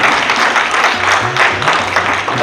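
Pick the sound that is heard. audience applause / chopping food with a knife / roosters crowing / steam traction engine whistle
audience applause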